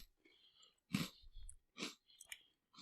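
A crunchy cookie is bitten and chewed up close, giving several faint, crisp crunches in short bursts with quiet pauses between them.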